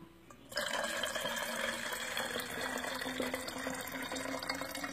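Rubbing alcohol pours into a glass jar for a homemade air freshener: after a brief quiet start the liquid stream begins abruptly and runs as a steady, fairly loud gurgling splash to the end.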